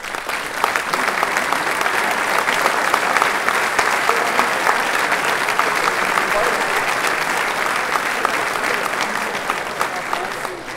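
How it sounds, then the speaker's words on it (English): Sustained applause from a seated audience honoring the seniors at a men's lacrosse national championship ring ceremony, steady dense clapping filling the room for the whole stretch. "give everybody a round of applause"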